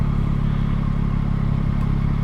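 A 2021 Yamaha MT-09 motorcycle engine on a test ride gives a steady, loud, low-pitched drone that stays even and close throughout, with no voices.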